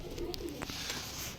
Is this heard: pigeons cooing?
yes